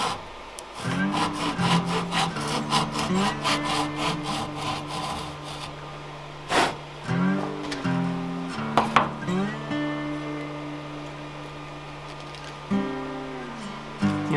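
Hand saw recutting fret slots in a wooden guitar fretboard: bursts of quick rasping strokes in rhythmic runs, close and fairly loud, separated by short pauses and scrapes.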